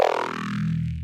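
A Serum growl bass passed through a phaser and band-reject filter gives one sustained, buzzing low note whose tone sweeps and wobbles, ending abruptly after about a second, alone and fairly quiet.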